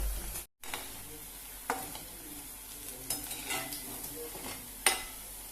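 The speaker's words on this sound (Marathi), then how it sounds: "चारूच घालून भाजतले भितर. आतां ही भाजूया." Prawns shallow-fried in a little oil in a pan, Goan style, a soft steady sizzle broken by several scraping stirs and light clinks of a utensil, close up with no talk.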